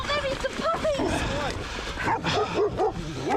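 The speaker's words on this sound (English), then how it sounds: "These are obviously Malinois puppies." Malinois puppies bark, yip and whimper at a cyclist in a rapid jumble of high-pitched barks, close and loud, with someone talking over them.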